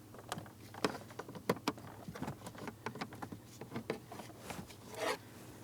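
A plastic trim tool works the push pins on a 2004-2008 Pontiac Grand Prix interior panel, giving a run of faint, close clicks and scrapes, alone with no talk.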